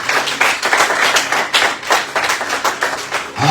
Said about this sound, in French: Acclame la parole du Seigneur avant de t'asseoir. Une acclamation un peu timide.